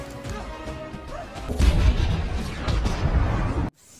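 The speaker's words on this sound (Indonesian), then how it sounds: "Nigel terus mengejarnya hingga akhirnya dinamit tersebut pun meledak" A loud booming dynamite blast erupts midway, with crashing debris rumbling for a couple of seconds before cutting off abruptly.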